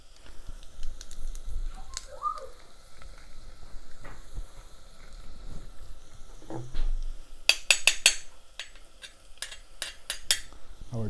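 Ginger and garlic frying in oil in a pan, kept moving with a utensil: light sizzling under sharp clinks and scrapes of metal against the pan, with a burst of quick clatters toward the end.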